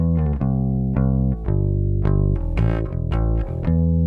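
Bass guitar played legato, each note held for the same full length before the next, a steady run of sustained, evenly spaced notes with no speech.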